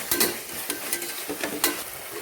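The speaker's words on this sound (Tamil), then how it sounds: "இந்த டைமில் இஞ்சி பூண்டு பேஸ்ட்டு போட்டுக்கோங்க" Ginger garlic paste sizzles loudly as it fries in a pan, with a dense continuous hiss and several quick scraping strokes of a spoon stirring it, close and with no voices.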